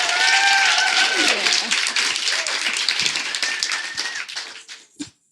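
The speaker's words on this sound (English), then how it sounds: "Please give her a round of applause" An audience at a live interview event applauds, dense clapping that starts loud and full, thins out and trails off into a few scattered last claps.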